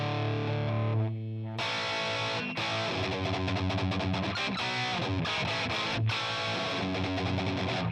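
A loud electric guitar goes through a distortion pedal with a Variac, giving a thick, compressed, saturated tone as chords and riffs are strummed continuously with no talking.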